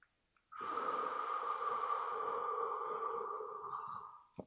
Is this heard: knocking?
no